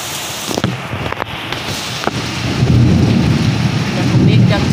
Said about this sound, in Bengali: তোমার বুঝতে পারছো কেমন জোরে বৃষ্টি পড়ছে।